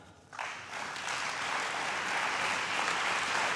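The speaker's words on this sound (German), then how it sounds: "Applaus" A party council audience in Bad Vilbel breaks into applause after a political speech, a sudden start that builds quickly into a broad, sustained roar of many hands clapping.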